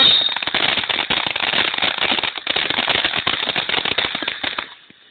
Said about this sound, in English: Little Big Bang fireworks.